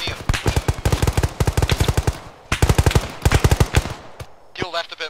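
Automatic gunfire from the military game ArmA crackles in rapid bursts of closely spaced shots, loud and near, with brief pauses between volleys and a voice faintly over the end.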